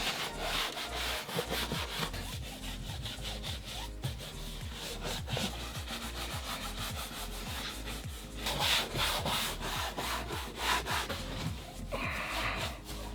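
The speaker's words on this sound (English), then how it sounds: "I just get a brush. Okay, and just brush it down." Brush scrubbing the dirty cloth upholstery of a car interior, a rapid, steady back-and-forth rasping that keeps going for about thirteen seconds, close and fairly loud, with no talk.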